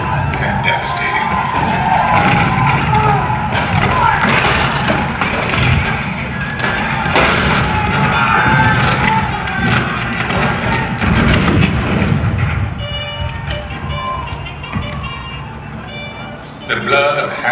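Booming cannon fire sound effects punctuate a Civil War presentation at the Magic Kingdom's presidents show, with repeated heavy thuds and crackling blasts under a narrating voice, fading toward the end.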